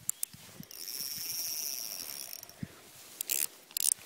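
A fishing reel's drag clicks in a fast continuous ratchet as a pike takes line on a lure-fishing outing, close and fairly faint, followed by a few sharp handling knocks and rattles.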